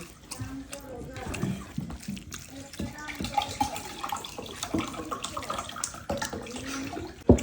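Water pours and splashes into a container while people talk over it.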